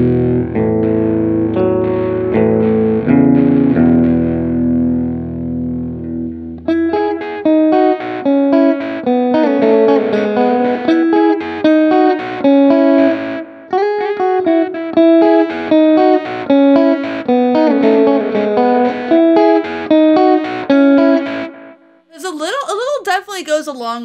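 Electric guitar through a Dogman Devices Air Delay and Fuzz pedal, with a fuzzy, slightly crunchy tone and trailing repeats, first sustained chords, then rhythmic picked phrases echoing behind each note; loud and close, no talking.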